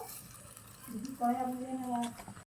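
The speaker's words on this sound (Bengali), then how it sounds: "নুরায়া কিন্তু প্রথম বেগুনিটা দিয়ে দিয়েছে তেলে" Brinjal fritters (beguni) crackle and sizzle in hot oil in a small pan, a soft, steady frying hiss with a faint tonal squeal partway through, cutting off abruptly at the end.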